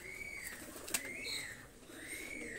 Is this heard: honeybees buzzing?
no